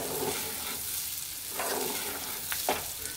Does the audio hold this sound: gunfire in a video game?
no